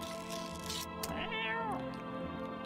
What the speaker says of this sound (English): Where's my cat? There's my cat.